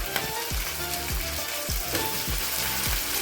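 Chopped tomatoes and green chillies fry in a hot pan for egg dum biryani, giving a steady, dense sizzle, with a few soft stirring knocks and no talking.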